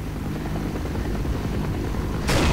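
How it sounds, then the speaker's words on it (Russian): An aircraft drones in Half-Life, a dense, loud, steady rotor-like rumble throughout that swells into a burst of harsh noise at the end, no talking. "А можно самолетик этот долбануть?"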